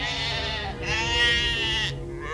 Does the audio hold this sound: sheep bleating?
yes